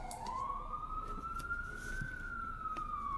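A siren wails on a street nearby, one long rising and falling tone that stays moderately loud over low traffic rumble.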